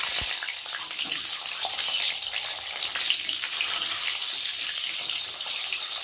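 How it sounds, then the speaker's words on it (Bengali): Three eggs sizzling and frying in hot oil in a wok, a steady loud hiss and crackle that runs unbroken throughout with no voices. "এখন আমি নুন দেবো, দিয়ে ডিম তিনটেকে ভেজে নেব"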